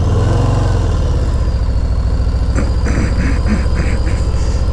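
A Harley-Davidson Low Rider S motorcycle rumbles along on a chilly cruise, its loud, deep, steady engine drone close and continuous throughout, with a brief burst of higher rattling or pulsing partway through.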